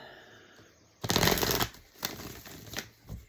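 Tarot cards are shuffled in quick papery bursts: a long riffle, then several shorter flicks, close and crisp with no talking.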